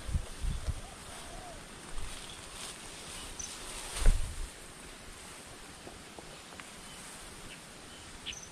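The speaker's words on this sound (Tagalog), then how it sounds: "Lakas naman ng hangin." Gusty wind rushes past the microphone in intermittent bursts, with one louder gust midway, over a quieter outdoor background that could be water.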